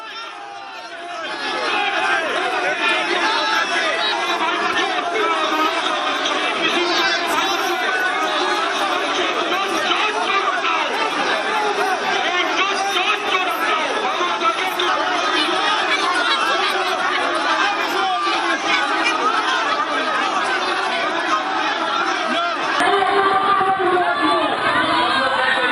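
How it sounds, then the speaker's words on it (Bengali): Dense crowd noise at rival Trinamool and BJP political rallies in Bhabanipur, Kolkata: a loud, sustained roar of many voices shouting slogans, with no pause throughout. "তৃণমূল বিজেপির মধ্যে তুমুল স্লোগান, পরিস্থিতি সামাল দেয় বিশাল পুলিশ বাহিনী।"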